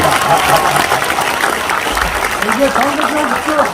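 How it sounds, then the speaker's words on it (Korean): Loud, sustained applause from a crowd at a People Power Party members' rally in Gijang, steady clapping filling the hall with voices talking and calling out over it. "박수 한번 시계 쳐줘 있어."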